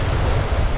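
Ocean waves at high tide in Sabana Bay roll in a steady, full roar, with wind buffeting the microphone and no voices.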